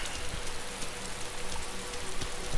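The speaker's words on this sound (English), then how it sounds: "It's raining." Steady rain pattering on a surface in the video game DayZ, a dense, even hiss of drops with no voices, moderately loud and continuous throughout.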